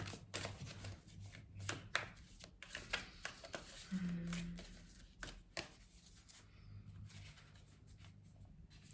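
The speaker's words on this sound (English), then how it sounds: "They don't want me to talk while I'm shuffling." Playing cards riffled and shuffled close by, crisp fluttering bursts and taps repeating irregularly, with a short low hum partway through.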